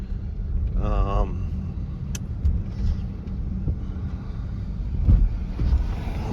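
Low rumbling road noise from a 2016 Range Rover HSE TD6 diesel on the move, a steady quiet hum with a brief whine and occasional bumps, under faint background talk.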